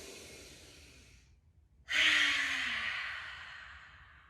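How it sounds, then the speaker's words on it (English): A person draws in a slow, deep breath through the nose, then after a brief pause releases a loud, airy exhale that fades out gradually, close to the listener with no talk. "We've got a deep breath in."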